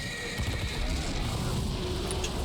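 Horse from the Lord of the Rings: The Third Age video game gives a short whinny, with hoof clatter and busy game noise around it.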